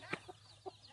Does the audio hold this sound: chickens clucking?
yes